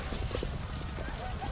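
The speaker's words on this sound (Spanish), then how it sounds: "Al caballo, brujo. Al galope, detrás de Anguleme." A horse gallops in quick, rhythmic clip-clop hoofbeats, as a sound effect for an audiobook, with a narrator's voice running over it.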